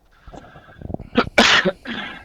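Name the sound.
coughing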